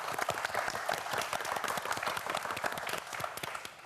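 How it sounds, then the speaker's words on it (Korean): An audience at a televised quiz show applauds for a winning student, a dense sustained patter of many hands clapping at even volume for several seconds. "큰 박수 부탁드립니다"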